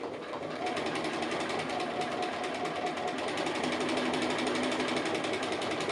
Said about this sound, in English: I'm just stitching close to that edge